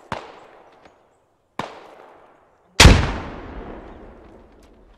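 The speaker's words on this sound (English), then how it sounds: "But he heard that AK fire" Three sharp rifle shots from an AK in the military shooter Squad, the last much louder and closer with a long echoing tail, spaced irregularly over a few seconds.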